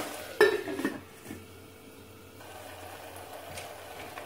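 A metal lid clanks onto a cooking pot of Madurai-style spicy chicken curry, a sharp clatter with a brief rattle, then a quiet simmering hiss continues underneath.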